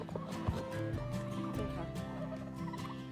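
Several turkeys gobble in bursts throughout, close by, with a busy farmyard background.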